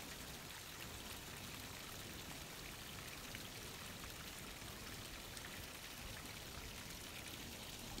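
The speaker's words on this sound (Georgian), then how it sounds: "აქ სასმელი წყალით ჩამოდის, გაკეთებული აქვთ სასმელი წყალი" Drinking water running down from a pipe at an outdoor rest spot, a steady continuous splashing pour that stays even and fairly close, with no talk.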